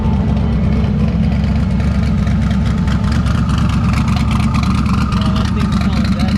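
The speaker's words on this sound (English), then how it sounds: "We just got a damn STO. Rev it." A Lamborghini-style STO sports car engine idles loudly and revs at a car meet in a park, a close, heavy, continuous roar under voices talking.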